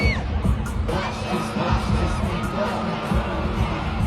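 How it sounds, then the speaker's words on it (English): A large crowd of fans at a concert screams and cheers loudly and continuously, with high shrieks and whoops rising over a dense roar of voices throughout. "I have never heard a scream so loud than when they came out to this song."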